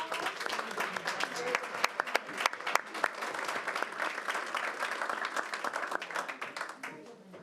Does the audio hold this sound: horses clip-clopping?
no